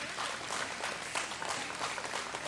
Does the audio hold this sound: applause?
yes